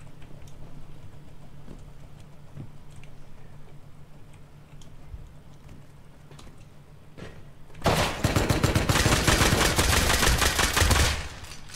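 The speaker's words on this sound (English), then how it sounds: "He pumped me, so he already got me low, and then he started nail gunning me" Nail gun shots in the survival game Rust: a quiet stretch of faint ticks and distant pops gives way to a loud, rapid burst of repeated shots lasting several seconds before it stops abruptly.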